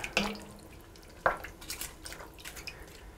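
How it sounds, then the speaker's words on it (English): Water is poured into a pot of pork ragu with bay leaves on the stove, heard as a close splash and a few drips and trickles over a short stretch. "I'm going to add enough water here to come up"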